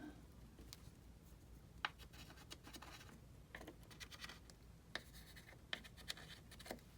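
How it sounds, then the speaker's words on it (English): A pencil scratches against a jon boat's hard hull in short, close strokes, marking holes for trim tabs, with a few sharper taps between the marks. "Put our pencil here. Some pencil marks."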